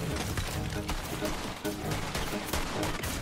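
Gunfire in the video game Borderlands 3, Bounty of Blood: dense overlapping shots and bursts in a busy firefight, with a player talking over the noise.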